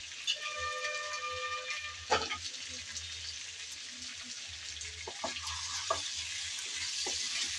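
Taro frying in a covered pot on the stove gives a continuous hiss and sizzle, with a few soft clinks scattered through.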